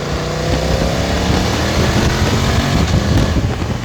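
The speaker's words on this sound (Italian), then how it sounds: "Il motore è progressivo, ma non ha picchi" A BMW F 900 XR motorcycle engine drones loud and steady during a test ride, the continuous engine note mixed with heavy wind rush and no talk.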